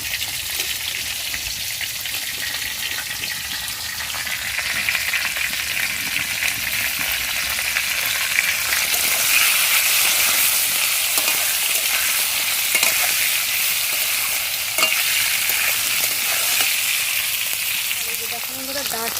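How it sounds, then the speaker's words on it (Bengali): Stems, potatoes and pointed gourd fry in a pan, giving a loud, continuous crackling sizzle that swells slightly midway, with occasional stirring clicks and no voices. "ডাঁটা আলু পটল সব কিছু ভাজা হয়ে গেছে প্রায়।"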